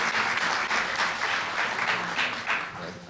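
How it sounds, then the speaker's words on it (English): A dense burst of audience applause fills a college spring symposium hall, loud and sustained with slight swells before tapering near the end, and no talking over it. "Round of applause for VP Thomas and Michelle Hodge."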